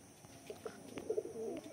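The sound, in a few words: satin pigeons cooing in a loft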